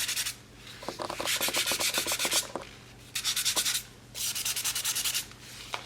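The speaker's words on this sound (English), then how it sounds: "So I'm gonna go ahead and just give this a light sanding" Sandpaper rubbing lightly over cured resin on a collage piece to work out air bubbles, quick rhythmic scratchy strokes coming in bursts separated by short pauses, close and fairly quiet with no speech.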